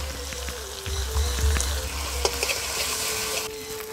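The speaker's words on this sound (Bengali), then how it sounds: "মশলাটা ভাজা হোক" Ginger garlic paste sizzles and fries in hot oil in a pan with onion and spices, while prawn malai curry is being cooked; a steady close crackle runs throughout with occasional stirring and no talk.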